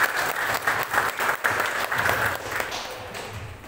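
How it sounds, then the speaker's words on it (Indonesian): A Baptist church congregation at a Christmas celebration in Depok breaks into applause, a busy patter of many hands that stays strong and then gradually thins and fades out. "Berikan tepuk tangan"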